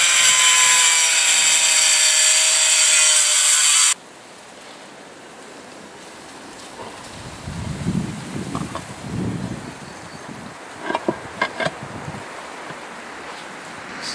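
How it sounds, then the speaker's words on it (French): An angle grinder whines loudly and steadily, cutting a Bradstone paving slab for a garden pond terrace, then cuts off abruptly, leaving outdoor wind noise and scattered handling knocks. "couper notre dalle à la meuleuse"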